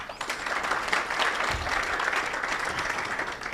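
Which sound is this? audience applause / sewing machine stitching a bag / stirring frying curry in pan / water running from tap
audience applause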